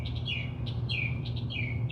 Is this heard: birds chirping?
yes